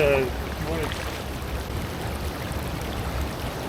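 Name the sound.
strong water flow in creek while gold prospecting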